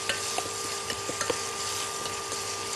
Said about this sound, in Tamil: இந்த வெங்காயம் நல்லா வதங்கணும், அரைக்குறையே எடுத்துடப்படாது.